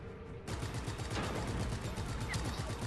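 Rapid gunfire in Just Cause 3 breaks in abruptly after a faint lead-in and continues as a steady stream of shots, fairly quiet overall.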